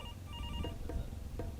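A phone ringtone chirping in short repeated electronic tones over a low rumbling background.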